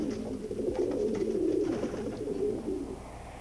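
A pigeon coos in low, rolling repeated calls that swell and fade, close and steady for a few seconds with no voices.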